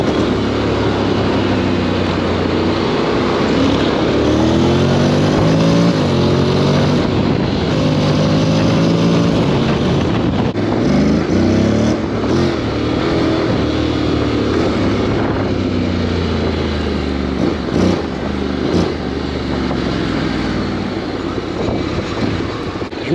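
A grey 2022 Honda X-ADV 750 maxi-scooter ridden fast gives a loud, continuous engine drone whose pitch rises and falls with acceleration, heavily mixed with wind rush over the microphone.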